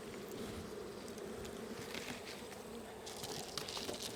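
Honeybees buzzing around beehives during late-summer hive work, a steady close hum of many insects with small rustles and no talking.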